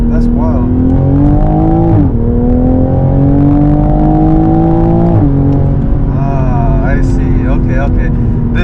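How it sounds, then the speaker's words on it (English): A 2020 Toyota Supra GR (A90) engine on its stock exhaust revs steadily and loudly up close, the pitch climbing and dropping in long pulls, with a person talking over it. "Oh my God, is this stock exhaust?"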